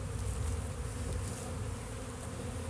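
Dense, steady buzzing of many honeybees swarming close around an open frame lifted from a newly installed backyard beehive, a continuous drone with no talking.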